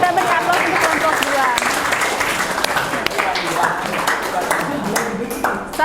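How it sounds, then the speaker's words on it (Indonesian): Steady applause from an audience for a student group that has just finished presenting in a class session, dense clapping filling the whole stretch with voices mixed in. "Kita beri aplaus untuk kelompok"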